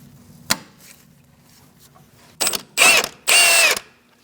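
Ratcheting wrench clicks and mechanical rattling while removing the nut from a front sway bar link on a 2000-2006 Mini Cooper, with a sharp tap early, then three dense bursts of close, loud ratcheting near the end.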